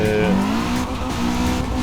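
A Honda Civic 1.6 engine drives along a California highway map in Assetto Corsa, giving a steady close-up engine drone with tonal harmonics that shift slightly in pitch, heard alone without talk.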